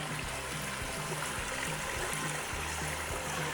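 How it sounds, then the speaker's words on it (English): Water drops and spills over driftwood in an aquarium riverfall, giving a steady close trickling and splashing wash that runs without a break and with no voices. "Now we've actually got water dropping and falling over the driftwood."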